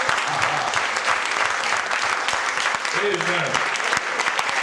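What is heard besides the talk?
congregation clapping for God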